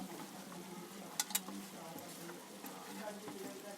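Potatoes fry in a pan with eggs and spices, a steady close sizzle with two sharp clinks of a utensil early on, and a voice talking over it.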